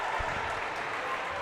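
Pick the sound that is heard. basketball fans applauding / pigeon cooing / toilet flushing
basketball fans applauding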